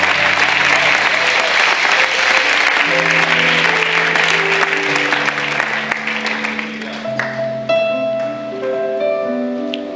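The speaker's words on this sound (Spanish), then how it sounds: "Den el aplauso, Señor." A church congregation applauds loudly during a Spanish-language sermon, clapping steadily as sustained keyboard or organ chords come in and the clapping fades under the music.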